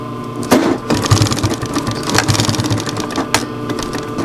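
A sewing machine tacks a loop onto a wool blanket shirt, running in quick mechanical chattering bursts with a few sharp clicks, close and fairly loud, with no talk.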